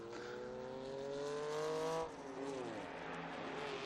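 A Lotus 7 race car, built in the UK, screams past a Ford Falcon on the inside during a historic endurance race at Estoril, its loud rising engine note peaking, then dropping in pitch as it passes, followed by continuing engine roar.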